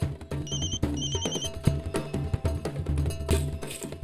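A telephone rings in a busy household, with short bright repeated ring bursts standing out over a dense bed of background music and room noise.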